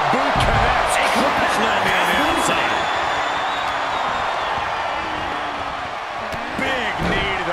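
Virtual arena crowd in the WWE 2K24 women's Royal Rumble game chanting a countdown in unison, a loud, steady roar with rhythmic shouted pulses, with commentary voices over it.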